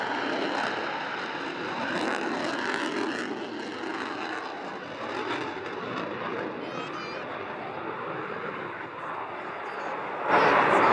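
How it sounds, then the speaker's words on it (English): A Boeing F/A-18F Super Hornet jet making an abrupt pull at an air show: a steady, broad roar of jet engine noise that holds throughout, swelling louder near the end, with commentary heard over it. "As with most Farnborough years, Boeing demonstrated the F/A-18F Super Hornet."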